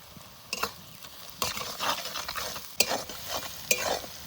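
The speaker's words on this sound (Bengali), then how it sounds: "পেঁয়াজ একটু ভেজে নিয়েছি" Chopped onions fry in a pan with cardamom, cloves and salt for a village-style chicken curry. A steady sizzle runs throughout, broken by several scraping stirs and short clatters, close and moderately loud, with no voices.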